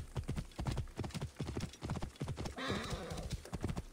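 A horse trots with loud, close clip-clopping hooves in Assassin's Creed Origins, then lets out a clear whinny near the middle before the hoofbeats resume.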